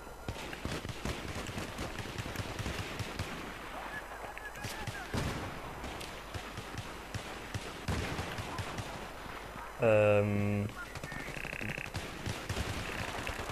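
A P90 submachine gun fires in Battlefield 3 in quick repeated bursts amid busy battle noise, with a brief loud tonal blare partway through.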